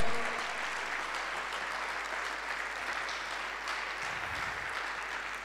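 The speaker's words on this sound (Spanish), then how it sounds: "Ahora sí demos un aplauso de gratitud y exaltación a Dios." A church congregation applauds during a Sunday service. The clapping is sustained, dense and steady, from many people in a large room, and continues for several seconds.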